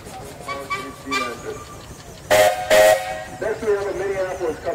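A 40 horsepower Case steam traction engine chugs along with rhythmic puffs at a threshing show, broken by two loud, close blasts of a steam whistle, with voices faintly in the background.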